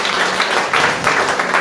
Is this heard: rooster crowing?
no